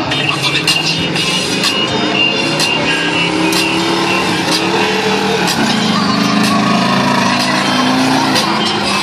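Ford Bigfoot monster truck making a high pass in front of the crowd at a stunt show, its engine roaring steadily and loudly throughout, with a shifting, rising engine tone and a commentator talking over it.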